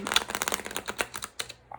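A tarot card deck is shuffled close up in a quiet room, giving rapid bursts of crisp riffling flutters that come in quick irregular clusters before a brief pause.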